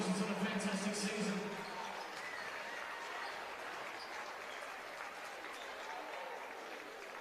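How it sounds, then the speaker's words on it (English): Crowd applause for the Broncos at a grand final presentation, a broad wash of clapping and cheering that starts louder with a voice over it and settles into steady, moderately distant applause. "Round of applause for the Broncos once again."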